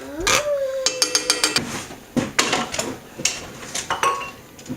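A thickening cheesy sausage potato soup is worked in a pot, with a rapid run of metallic clinks and knocks of a utensil against the pot, then scattered scraping strokes and taps, close and fairly loud.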